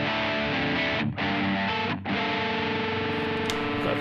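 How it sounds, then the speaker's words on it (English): Electric guitar on the crunch channel of a Blackstar Dept. 10 Dual Distortion valve pedal, thick overdriven chords ringing with two brief muted gaps, loud and unaccompanied. "Let's have a listen to the crunch channel. Let's set it about there for a nice crunch."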